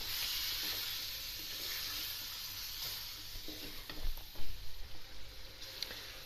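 Chicken browning in a karahi for saffron zafrani chicken karahi, a steady hissing sizzle with a few clattering stirs and knocks near the end, close and with no talk.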